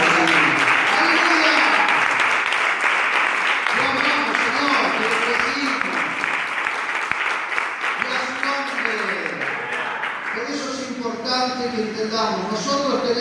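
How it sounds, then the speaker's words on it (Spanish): A church congregation applauds at length during a pastor's sermon, dense steady clapping with voices and a speaking voice rising over it before the clapping thins toward the end. "Dios un aplauso grande."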